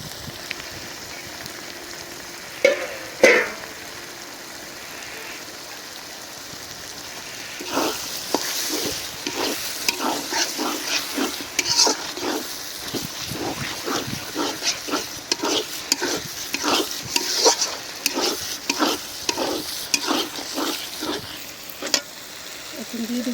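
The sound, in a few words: brain frying and stirring in a pan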